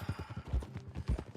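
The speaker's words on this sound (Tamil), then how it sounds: "ஐயோ குதிரை வேற எங்கேயோ போகுது." Horse hooves clip-clop in Red Dead Redemption 2, a steady, close, low-pitched trot of about a dozen heavy footfalls with faint tack rattling.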